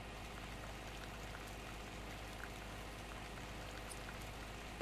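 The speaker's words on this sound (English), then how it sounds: "The lid on this water pump is open. Pump the water?" Water pump in the video game Resident Evil HD runs with a steady, quiet bubbling and gurgling wash of liquid, continuous and alone with no talk.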